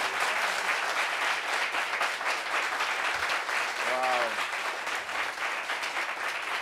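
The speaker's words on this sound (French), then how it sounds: "Applaudissements pour elle." Studio audience applause greeting a guest on a talk show, dense steady clapping filling the whole stretch, with a brief exclaimed voice breaking through midway.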